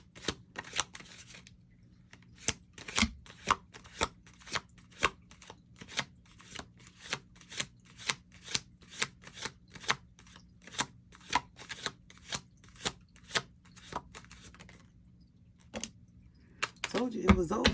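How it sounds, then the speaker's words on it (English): Tarot cards are shuffled close up in a long steady series of crisp riffling snaps at a regular rhythm, in a quiet room. A brief louder rustle of handling comes at the end. "I was shuffling these cards"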